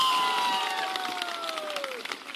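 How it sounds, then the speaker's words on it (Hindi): A crowd claps and cheers at a Prashant Kishor political rally in Paru, Muzaffarpur, Bihar: steady dense applause throughout, with a falling whistle-like tone sliding across the first two seconds. "जिसको ताली बजाना है बजा लो।"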